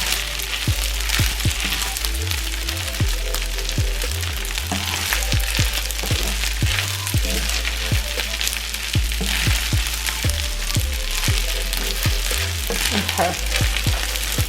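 Shrimp frying in a hot iron pan, a close, continuous loud sizzle broken by frequent sharp pops and bursts of stirring, with a brief word spoken once.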